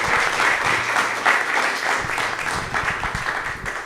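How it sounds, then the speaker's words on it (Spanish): Steady applause from an audience at an academic event in Tenancingo, dense continuous clapping heard close up for several seconds with a faint voice underneath. "la doctora Luz María Robles, para quien pido un fuerte aplauso"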